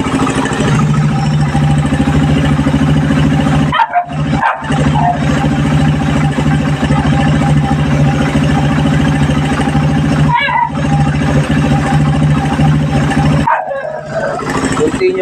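Motorcycle engine fitted with a Koso 28mm carburetor idling with uneven RPM, a steady, loud, low hum that wavers and dips briefly several times as the revs fall and recover.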